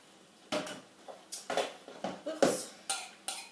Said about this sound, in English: we're going to add our chopped fruit and our sultanas into our dish.